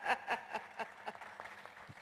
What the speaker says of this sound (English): You're getting an applause from the audience